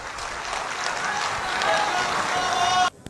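Audience applause at a poetry recital greets poet Harshit Mishra: a dense, sustained wash of clapping that swells slightly, then cuts off abruptly just before the end.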